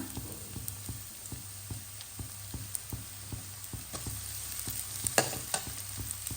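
Carrots and beans being stir-fried in a pan for fried rice, a steady close sizzle with regular soft scrapes of the spatula, no voices.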